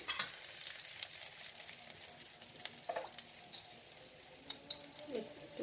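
Okra sizzling and frying in a pan while being stirred, a quiet steady crackle with occasional soft scrapes and clinks of the utensil, no talking.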